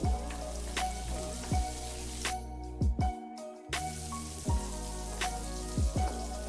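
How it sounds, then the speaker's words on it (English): Garlic and tomatoes fry in two to three tablespoons of hot oil for a soya chunk chilli dish, giving a steady crackle with repeated sharp sputtering pops and a brief lull partway through, close and with no talk. "heat 2 to 3 tablespoons of oil. Add garlic, tomatoes, and fry for a couple of minutes."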